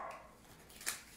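A pet dog at home barks once, a short bright yelp heard at a distance over faint room noise.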